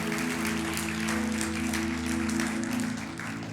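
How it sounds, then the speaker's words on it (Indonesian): Church congregation clapping for God, a dense continuous round of applause over a held musical drone, fairly loud and close. "Berikan tepuk tangan buat Tuhan lebih meriah lagi."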